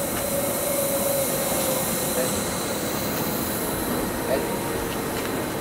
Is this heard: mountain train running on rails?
yes